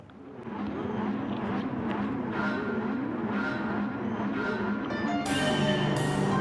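Race cars in a racing video game roar off at the start at Bathurst in the early morning, led by a four-wheel drive Evo; a dense, steady pack of engine drone with rising revs and faint tire noise, no talking.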